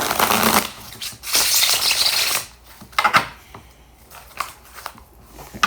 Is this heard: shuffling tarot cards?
yes